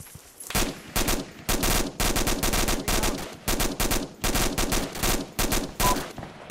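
Automatic gunfire in the ArmA II military shooter, loud repeated machine-gun bursts at close range with short gaps between them and no talking.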